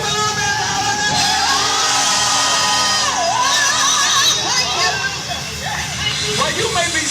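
A crowd at an anniversary kick-off event screams and cheers loudly. The roar is dense and continuous with high whoops, and it holds steady throughout.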